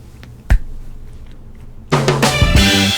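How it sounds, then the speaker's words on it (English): A single sharp hand clap marks the start of a recording, one loud close crack standing out against a quiet room, followed by a louder burst of other sound. "do the clap now"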